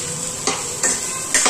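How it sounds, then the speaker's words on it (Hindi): Eggplant with coriander, chili, turmeric and salt stirred and sautéed in oil without water, a steady sizzle broken by three scraping stirs of a spoon in the pan, close and clear. "अब इसको हम अच्छे से भूनेंगे"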